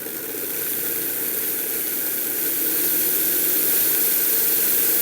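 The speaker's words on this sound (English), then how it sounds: "So the rice is in the blender." A kitchen blender grinds dry rice at high speed, a steady dense whirring roar that builds slightly as the power is turned up and then holds constant, close and loud, with no talking.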